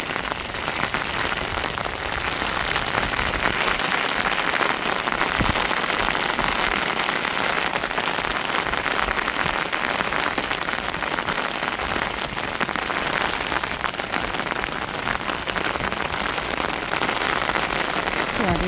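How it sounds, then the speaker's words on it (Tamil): Heavy rain pours down in strong wind, a dense continuous hiss of drops hammering surfaces, loud and unbroken throughout, with no voices. "பாருங்க மழை நல்லா அடிச்சு ஊற்றிக்கிட்டு இருக்குது"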